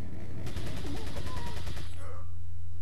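Rapid automatic gunfire in the Wii version of Resident Evil 4, a fast burst of repeated shots lasting over a second against a low rumbling game backdrop, then cutting off as the background drone continues.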